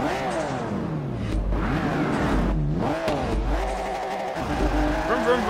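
Race car engine in Forza Motorsport 3 revving up and down through the gears in repeated rising whines, loud and close, with a voice talking over it.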